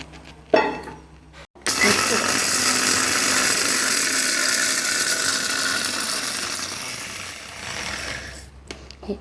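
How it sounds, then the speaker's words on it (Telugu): A kitchen mixer grinder grinds fried broad bean spices to powder for a Nellore-style pickle: after a few clicks it starts abruptly, whirs loudly and steadily for about seven seconds, then cuts off. "మిక్సీలో వేసి నూనె హీట్ అయ్యే లోపల ఈ పొడి చేసుకోవాలి."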